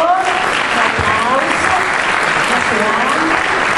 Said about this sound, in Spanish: Un aplauso para Diego, por favor.